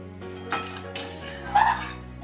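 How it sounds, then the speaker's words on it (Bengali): A utensil stirs paneer curry in a pan, making a few distinct metallic scrapes and clinks, with a sharp knock near the middle and a louder clatter toward the end, close up with no talking. "এবার আমি সবটা একটু ভালো করে নেড়ে দিচ্ছি।"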